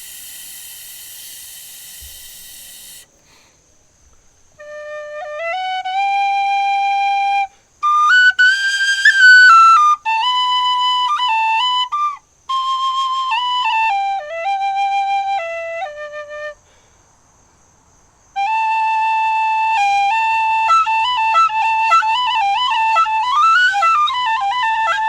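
A high, breathy aluminum high D tin whistle plays a series of melodic phrases with quick ornamented runs, separated by short pauses, close and fairly loud.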